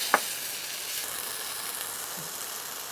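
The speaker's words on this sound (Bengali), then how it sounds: "এবারে এটাকে ভালো করে কষছো" Vegetables and spices being sautéed in a pan with turmeric, a steady soft hissing sizzle opening with a brief utensil clink, close and continuous without talk.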